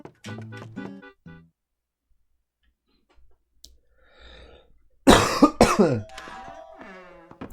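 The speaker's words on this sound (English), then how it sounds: "I just have this like lingering cough, which is annoying" A person with a lingering cough clears the throat and then breaks into a loud burst of coughs after a near-silent pause, preceded by a few brief soft vocal sounds.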